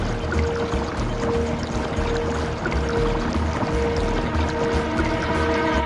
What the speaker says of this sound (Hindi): वो देखो, नदी का पानी ऐसे उबल रहा है जैसे कोई खीर गरम कर रहा हो।